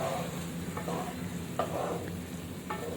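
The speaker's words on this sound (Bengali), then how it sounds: "এখন একটু ভালোভাবে খুন্তির সাহায্যে কিন্তু আমি নাড়িয়ে নেব।" A spatula stirs egg masala in a pan of oiled spices, giving a steady low sizzle with a few soft scraping strokes spaced across three seconds, close and alone.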